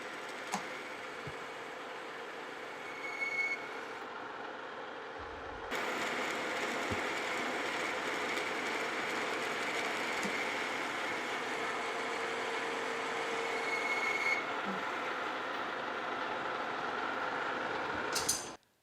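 A horizontal boring mill takes a light milling pass on an end spline, producing a steady, quiet mechanical hum with gear whine and faint ticking that steps up louder partway through and runs on until an abrupt stop.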